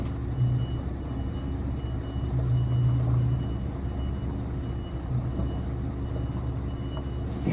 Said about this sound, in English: So I'm just going to put this in here between two trailers.